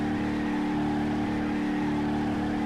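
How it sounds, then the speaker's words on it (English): Formula 1 car engine running in BeamNG while overheating after a head gasket failure, a steady loud droning tone with faint periodic pulses, continuous and alone with no talk. "Amazingly, the car's still going."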